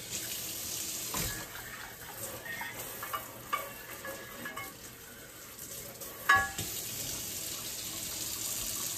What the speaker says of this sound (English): I'm going to use the sprayer.